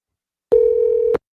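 A telephone in a radio ad gives one steady electronic tone lasting under a second, clean and close, with silence before and after.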